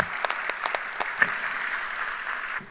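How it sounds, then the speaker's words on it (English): Thin, distant applause from a convention hall audience at a technology conference, a few scattered claps rising into a soft steady patter that fades. "let's give him as well a bigger round of applause"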